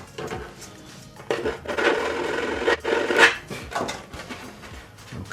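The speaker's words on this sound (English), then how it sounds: "So I'm just trimming a little more out this side." A plastic Stormtrooper helmet being trimmed, with a run of close, uneven scraping and rasping strokes that rise and fall in loudness and no talking.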